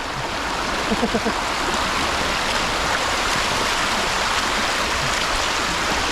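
Stream water flows and rushes outdoors as a steady, dense, loud wash that holds constant throughout, with faint voices briefly audible early on.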